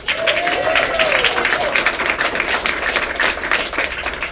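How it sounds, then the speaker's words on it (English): A large audience at a political office opening applauds continuously and loudly, the dense clapping holding steady throughout with faint voices underneath. "let's give a big round of applause to Steve Rossetti"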